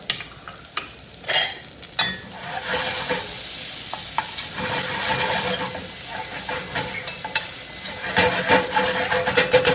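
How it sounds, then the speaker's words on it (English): A generous knob of butter melting in a hot pot, a loud hissing sizzle with steam that rises after a few clattering bumps, then settles into a continuous fizz. "we're going to add a generous knob of butter"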